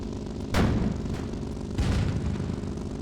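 Heavy bursts from a small turret in the tank-building game Sprocket, two booming shots about a second apart over a constant loud rumble of engine and battle noise.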